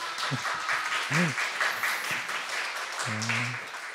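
Audience applause at an online forum and workshop for church officers, given as Elder Kim Han-sung is introduced. A steady wash of clapping runs throughout, with brief voices and laughter breaking through at moments.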